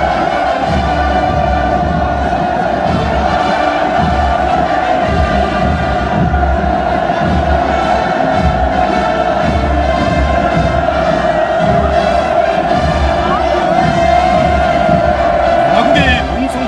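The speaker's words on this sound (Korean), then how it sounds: "동창 만세의 환호성이 경축광장 상공에 끝없이" A vast crowd fills a celebration square at a North Korean military parade with sustained, loud cheering and hurrah chants, a steady roar for the whole stretch with voices mixed in.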